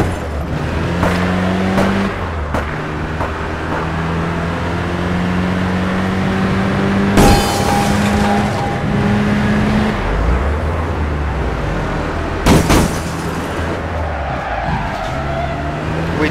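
Car driven in the video game APB Reloaded, a loud steady engine drone with tyre skids and shifting tones, two sharp bursts around the middle and near the end, no talk.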